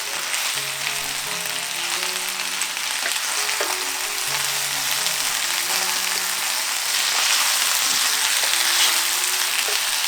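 Bangers (sausages) fry in a pan with a loud steady sizzle and crackle that runs without break, with scattered small pops and no voices.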